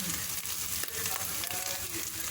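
Ground meat sautéing in a pan for a Filipino-style Arabic potato dish, a steady close sizzle and frying crackle with faint stirring, continuous and fairly quiet.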